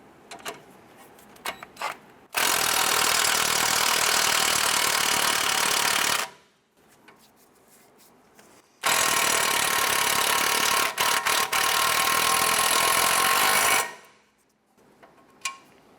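A power tool tightens the nut on a Nissan Versa CV axle in two loud, sustained rattling bursts of about four and five seconds, separated by quieter shop background.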